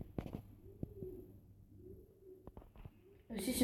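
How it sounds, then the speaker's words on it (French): Pigeons coo softly on a roof, a few muffled rolling calls at low volume over a quiet background, with a few faint knocks and then a louder burst of noise at the end. "si vous entendez des bruits de pigeons, il y a des pigeons dans le toit, sur le toit"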